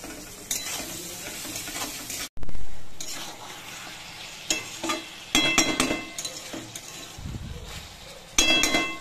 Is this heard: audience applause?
no